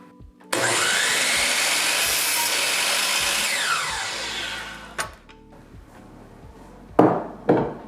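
A miter saw cuts through wooden table legs with a loud, steady whine that winds down after a few seconds, followed by clunks and two short bursts as the blade spins up again.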